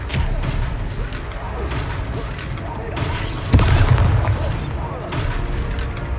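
Expelliarmus spell effect in the Hogwarts Legacy video game, heard as a booming magical blast with crashing impacts amid continuous loud combat noise, peaking sharply midway.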